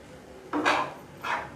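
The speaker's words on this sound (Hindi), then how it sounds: "अब ये चिकन डाल रही हूँ इसमें" Boiled chicken tipped into a metal pan for bread roll filling, with two short scraping, clattering bursts of utensil against pan, close and clear, no talking.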